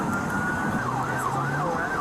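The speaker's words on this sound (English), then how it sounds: "Changing the tone on your sirens." A loud emergency vehicle siren wails nearby in Denver, its pitch sweeping up and down as the tone changes, over a steady roar of engine and road noise.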